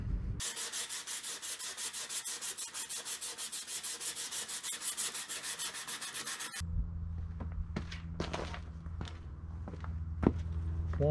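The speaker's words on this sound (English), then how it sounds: "So yeah, let's keep sanding" Rhythmic back-and-forth rasping of sandpaper strokes on primer on a car body, close and steady for several seconds, then a low hum with scattered scrapes and knocks.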